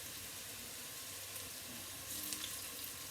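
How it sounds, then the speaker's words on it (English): Water runs steadily into a soup pot for lemon orzo soup, a continuous, fairly soft rushing stream in a kitchen that grows slightly fuller near the end, with no voices. "then we're gonna put the water in, and it says to put the broth in, so I'm gonna put water in"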